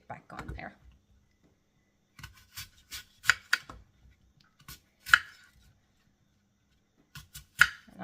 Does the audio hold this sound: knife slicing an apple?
yes